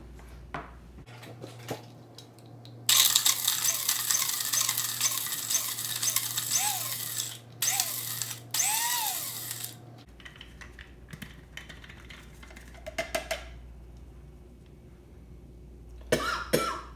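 An electric grinder runs loud and steady, grinding dried hot garden peppers into flakes, a harsh whirring roar that starts abruptly, holds with brief changes, then cuts out to quieter handling.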